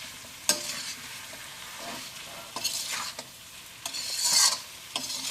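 Fish being mixed into vinegar pickle masala in a pan for meen achar, a soft sizzle broken by several sharp spoon clacks and scraping strokes, close and moderately loud, without talking.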